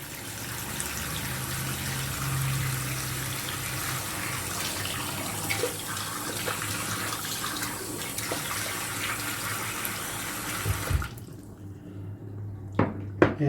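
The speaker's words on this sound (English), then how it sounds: "Might just give it a bit more hot water there." Hot water runs steadily from a tap onto a shaving brush being soaked, a continuous close splashing flow that stops near the end, leaving a few drips and clinks.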